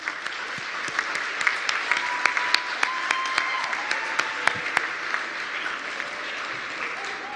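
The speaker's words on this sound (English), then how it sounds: "a warm applause for the logistics teams" Audience at a cyber capacity building conference gives sustained warm applause. Dense steady clapping runs throughout, with a few sharper individual claps standing out.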